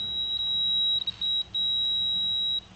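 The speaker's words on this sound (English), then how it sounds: "And you touch your probes together and it will beep." A continuous high electronic beep tone from a multimeter continuity test with probes touching sounds close by, holding steady for a few seconds with a couple of brief interruptions.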